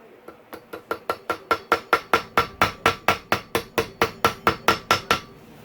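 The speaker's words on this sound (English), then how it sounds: "Sometimes you gotta tap them in, especially on a new crank like this. Let me find my hammer." A hammer taps a part onto a new crank during a Honda CRF250R motorcycle engine rebuild. Around twenty sharp, evenly spaced metallic knocks land close by, starting light and quickly growing firmer, with no talking over them.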